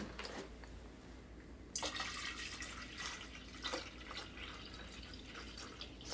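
Water runs from a tap in a kitchen, with soft splashing and dripping, to be boiled for magic mushroom tea. The sound is faint and steady, picks up a little partway through, and has no voices over it.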